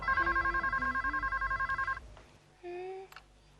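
Mobile phone ringing in a sitcom scene: a rapid pulsing electronic ringtone chirps steadily for about two seconds, then stops, and a brief tonal beep follows over a quiet room background.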